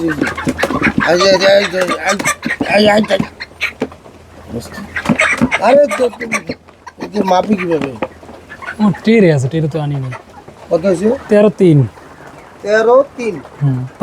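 Broiler chickens cluck in the background while a person talks steadily over them, the speech clearly louder than the birds.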